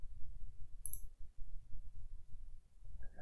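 A single computer mouse click, short and crisp, heard close over low background rumble.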